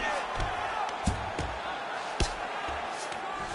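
A crowd at a fight event reacts with a continuous murmuring roar, punctuated by sharp thuds and impacts at irregular moments.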